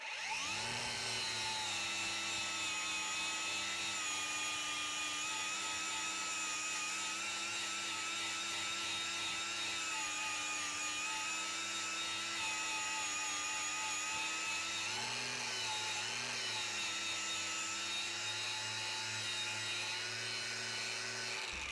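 An angle grinder fitted with an orange Tubarão ceramic aluminium oxide strip disc whines steadily while stripping paint, a loud sustained high-pitched tone with a brief dip in pitch as the disc bites harder partway through.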